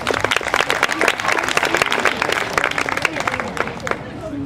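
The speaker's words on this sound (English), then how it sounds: "let's give Casey a round of applause." An audience breaks into dense, steady applause of many hands clapping at once, loud and close, with some voices mixed in beneath it.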